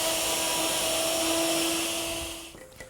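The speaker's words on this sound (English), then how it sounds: "I'm using a 1/2-inch spiral bit to cut a groove for the poplar bottom" Router fitted with a guide fence and a 1/2-inch spiral bit cutting a groove in wood for a poplar chest bottom: a steady, loud high-pitched whine that runs throughout, then winds down and fades near the end.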